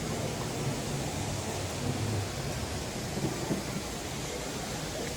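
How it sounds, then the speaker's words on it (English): Heavy rain pours down on a wet Sunday morning at the Dollywood theme park, a dense, steady hiss of downpour close by and filling the whole stretch without pause or voices. "it's still pouring down rain"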